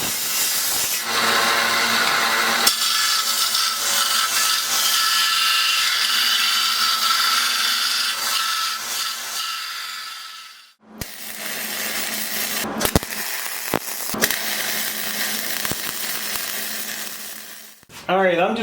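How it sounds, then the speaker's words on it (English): Metal edge being sanded smooth with a power sander for a router leveling jig, a long loud whirring grind that stops, then resumes in shorter bursts, with no talk. "I'm just working on this edge, sanding this down nice and smooth"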